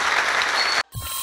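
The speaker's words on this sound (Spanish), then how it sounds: "un aplauso para el gran Felipe Rogas." Crowd applause for baseball figure Felipe Rojas Alou, a dense, loud wash of clapping that cuts off abruptly near the end, followed by a brief quieter stretch.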